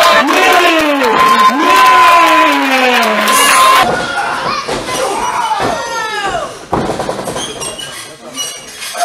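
Wrestling crowd cheering and whooping loudly during a women's match debut, with shouting voices and a commentator's talk over the steady roar of the arena audience.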